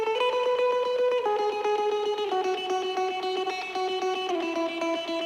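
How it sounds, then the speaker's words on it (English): Electric guitar chords with distortion placed after the reverb, a sustained, buzzing wash of strummed chords changing every second or so, loud and continuous with no voices. "the trick that they do is adding a distortion after"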